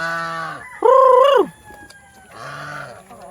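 Heritage chickens on a farm, one crowing loudly in a rising, sustained call in the middle, with softer clucking and vocalizing before and after, close by and without talk.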